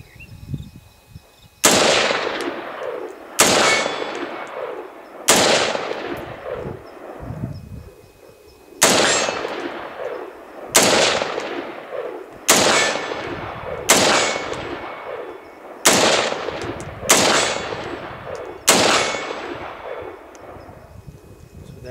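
Bushmaster rifle shots at outdoor target practice, about ten loud, sharp cracks spaced one to two seconds apart, each trailing off in a brief echo, with no talking between them.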